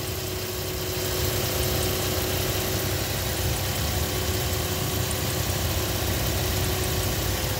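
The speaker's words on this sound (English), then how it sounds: "And as you see, the motor is running." A Mazda car engine idles steadily and fairly loud, a constant low hum with faint vibration running unbroken throughout, no voices.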